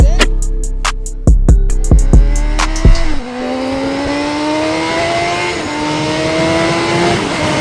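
Reality 600RR sport motorcycle revving hard in a series of sharp throttle blips, then holding a rising high-pitched engine whine, loud and close with no talk.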